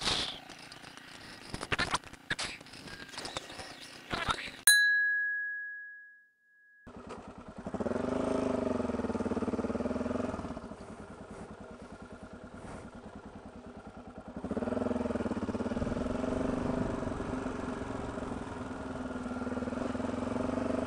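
At a motorcycle-only campsite, motorcycle engines idle with a steady, throaty rumble that pulses evenly, after a jumble of sharp clicks and a brief high tone. The engine drops out for a moment, then returns and carries on close and continuous.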